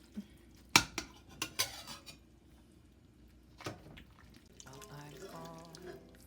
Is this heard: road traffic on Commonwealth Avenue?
no